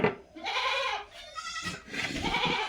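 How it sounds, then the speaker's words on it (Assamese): A goat bleats in a few drawn-out, wavering calls close by, with a brief pause between them and no speech. "আজি আপোনালোকৰ ছাগলীবোৰ দেখুৱাম"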